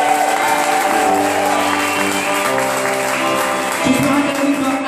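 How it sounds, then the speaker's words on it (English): Applause from a stage audience, steady clapping mixed with sustained musical tones and some crowd noise, moderately loud and continuous throughout. "Can everybody give her a round of applause?"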